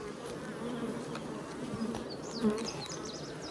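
Honey bees buzz steadily throughout a hive inspection in North Alabama, a dense droning hum with a few individual bees passing close.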